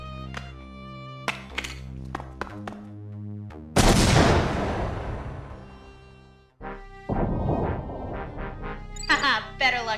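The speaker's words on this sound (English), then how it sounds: "Thermite grenade, if you please." Over music and voices, a thermite grenade blasts a door in a sudden loud fiery burst, roaring and hissing for a few seconds before cutting off abruptly.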